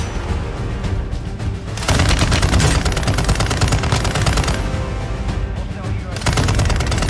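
Sustained bursts of light machine gun fire in Warzone, a loud rapid rattle in two long strings separated by a short pause, with gameplay sounds mixed in.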